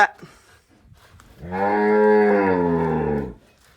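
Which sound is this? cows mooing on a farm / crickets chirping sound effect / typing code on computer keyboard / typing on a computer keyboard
cows mooing on a farm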